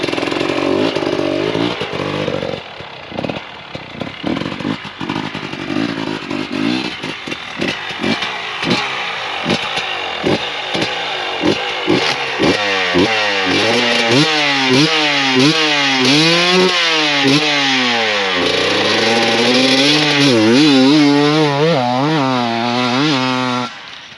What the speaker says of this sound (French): on va faire un petit test de cette moto